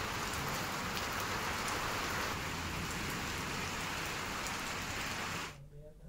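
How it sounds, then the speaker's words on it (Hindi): Heavy rain with a storm pours steadily in Rishikesh, a dense, loud hiss of downpour that holds for about five seconds before abruptly cutting to quiet. "ऋषिकेश में भी आज दोपहर बाद तेज आंधी तूफान के साथ बारिश हुई"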